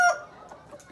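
A five-year-old, dark-toned breeding rooster gives a short, close cluck at the very start, then quiet low rustle follows.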